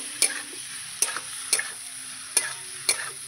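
A spoon stirs salted curry masala with potatoes and elephant foot yam in a pan for a rohu fish curry, giving five sharp scraping clacks over a low, faint sizzle.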